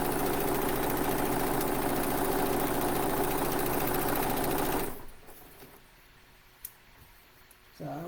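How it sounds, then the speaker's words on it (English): Sewing machine stitching a quilt seam, a loud steady whirring run for about five seconds that stops abruptly, followed by quiet handling noises. "So let me sew this whole line here"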